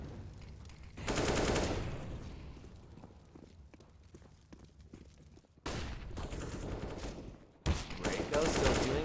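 Bursts of gunfire in a Counter-Strike match, dense rapid shots in three clusters with quieter scattered shots between, loud and fairly close throughout.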